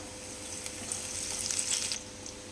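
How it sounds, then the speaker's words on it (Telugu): Peanuts and curry leaves frying in hot oil for a poha mixture, a continuous close sizzle with bright crackling spits that swell toward the middle and then settle back. "పల్లీలు కూడా బాగా ఫ్రై అయినాయండి. ఇప్పుడు కరివేపాకు వేసుకుందాం."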